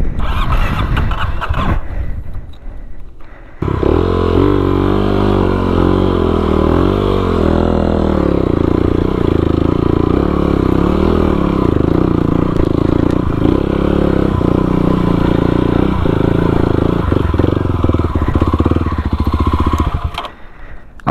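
Motorcycle engine revving hard on a rocky, slippery trail in Papua, a loud, sustained drone with rising and falling pitch, rattles and scrapes, starting after a brief clatter and cutting off near the end.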